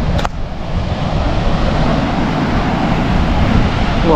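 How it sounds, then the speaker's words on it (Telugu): Large waves break close to shore at Mypadu beach near Nellore, a loud, continuous roar of surf mixed with buffeting wind on the microphone and no pauses. "అలలు కూడా చాలా దగ్గర, పెద్దగా వస్తున్నాయి."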